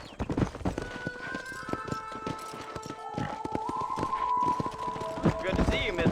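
Horse hooves clip-clop at a trot in the video game Red Dead Redemption, with a whinny partway through; the hoofbeats sound close and rhythmic under game dialogue voices.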